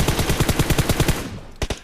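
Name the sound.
M4 rifle full-auto gunfire in PUBG Mobile video game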